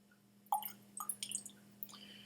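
Water is dripped into a glass of Dalmore Port Wood Reserve Highland single malt Scotch whisky: a few close, quiet drips and small splashes spaced irregularly over a couple of seconds, with no talk.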